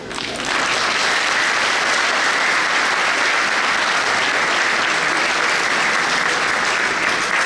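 An audience at the Ubavi sme svoi sme 2025 beauty event gives sustained, dense applause that rises quickly and keeps an even, loud roar of clapping with no voices over it.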